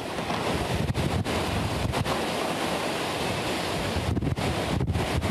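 Powerful, roaring hurricane wind blasts without a break, a dense, rushing wall of noise with gusts rising and falling, loud and close to the microphone.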